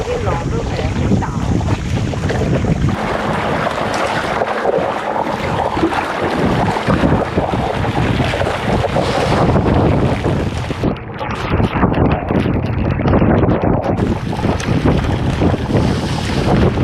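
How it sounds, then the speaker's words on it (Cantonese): Small motorboat crossing large waves in strong wind at sea, a loud continuous roar of wind buffeting the microphone with engine drone and water slapping against the hull throughout, while someone talks over it. "真係啲浪都係幾大。"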